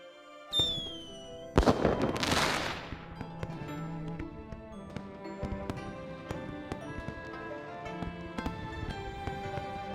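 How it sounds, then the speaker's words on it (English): Fireworks in the video game Love and Deepspace: a sharp burst and crackling swell early on, followed by a steady scatter of pops and bangs of varying strength layered over a soft melodic background, with no talking. "Fireworks are beautiful."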